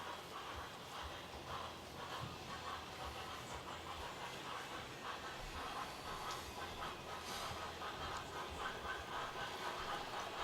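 Several MTH HO scale model steam locomotives run at once, giving off a soft, continuous hiss and chuffing rail noise, faint and steady with no voices.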